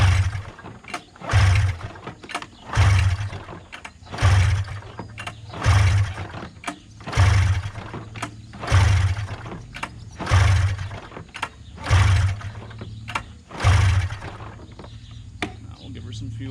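Repeated pull-start attempts on a cheap used snowmobile engine: about ten evenly spaced rope pulls, each a short whirring rasp with a low thump, and the engine never catches.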